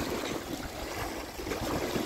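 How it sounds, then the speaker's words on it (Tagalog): Water waves lap and wash against a shore in a steady, faint, broadband hiss with gentle surges, heard alone with no voices. "napakaganda pong pagmasdan ng agos o yung hampas ng tubig sa dalampasigan"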